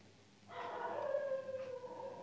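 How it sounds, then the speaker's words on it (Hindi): A dog's long wavering howl rises after a quiet start and holds steadily, with other dogs faintly joining in the distance. "देखिए कुत्ते कितना भौंक रहे हैं"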